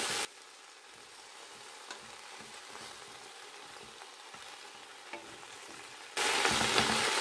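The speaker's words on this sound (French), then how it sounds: "Je vais mélanger." Vegetables being stirred in a cooking pot give a soft, continuous sizzling hiss with faint scraping, fairly quiet, then a louder burst of noise near the end.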